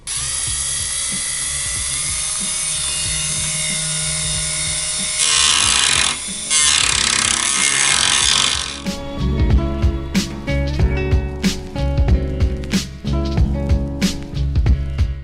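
A Dremel rotary tool saws out tabs on a custom 4Runner car grille, giving a steady high whine that rises into a harsher, louder grinding burst midway, then gives way to choppy, intermittent cutting bursts.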